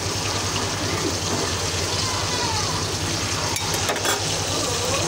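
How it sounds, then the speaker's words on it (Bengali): Fish fries in hot oil on a low gas flame while rice cooks nearby, with a steady crackling sizzle and a few sharp clinks of utensils, close by, under a low background hum. "আর এখানে আমি মাছটা ভাজতেছি"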